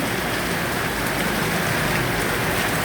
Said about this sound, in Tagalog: Ang ulan.